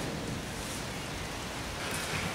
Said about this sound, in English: it's raining out there as well